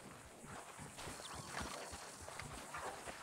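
Horses at a Red Dead Redemption II ranch clop their hooves in quick, irregular beats beneath a steady ambient hiss, quiet and a little distant, with a faint whinny-like squeal in the middle.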